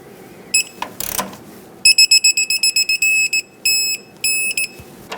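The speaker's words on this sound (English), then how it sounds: "Now let's grab that torque wrench." A torque wrench tightens a front sway bar link on a 2007-2014 Chevrolet Silverado 2500 HD. A few ratcheting clicks are followed by a loud run of repeated electronic beeps, some short and some held, close and alone.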